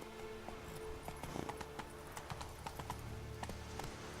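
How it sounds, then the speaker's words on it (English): A horse gallops in The Witcher 3: Wild Hunt, hooves clip-clopping in a quick steady rhythm over a continuous game soundscape, fairly quiet, with no talking. "Run, Roach"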